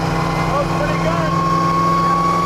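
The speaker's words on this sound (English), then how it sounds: "Straight cut gears, huh?" Car with straight-cut gears gives a steady high-pitched gear whine over a constant engine drone at close range, with a voice speaking briefly over it.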